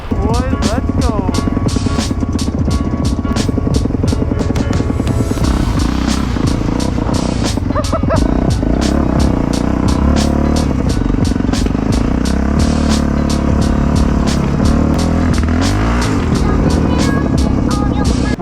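Quad ATV engines, including a Raptor, rev loudly and close by as riders head out onto snowy trails, with rapid pulsing exhaust throughout and a few rising and falling revs.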